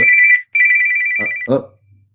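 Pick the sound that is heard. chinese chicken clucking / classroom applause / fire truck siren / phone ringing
phone ringing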